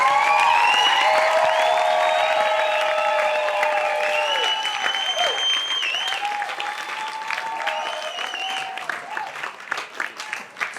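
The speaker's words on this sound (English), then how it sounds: "give yourselves a round of applause for being here" A meeting crowd in Hawaii breaks into sustained applause that fades toward the end, with scattered whoops and voices over the steady clapping.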